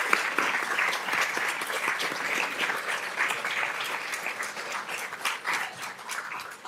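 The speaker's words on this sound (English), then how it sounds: "yes, round of applause." Audience applause for a high school jazz ensemble at a board of education meeting, dense steady clapping from a room crowd lasting several seconds, with no voices over it.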